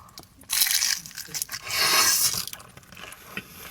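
Bites into a hot, crunchy scallion pancake crunch wrap with corn cheese, giving a couple of loud crisp crunches close up followed by softer chewing.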